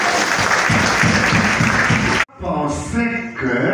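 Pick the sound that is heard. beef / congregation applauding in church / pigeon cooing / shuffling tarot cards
congregation applauding in church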